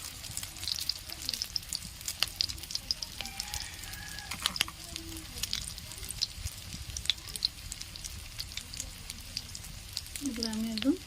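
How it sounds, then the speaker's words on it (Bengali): Fish roe frying in shallow oil in a home kitchen, a steady crackling sizzle with scattered pops and spits throughout, near and moderately loud, with occasional clinks of a utensil stirring the pan. "এগুলো আমি একদম লাল লাল করে ভেজে নেব।"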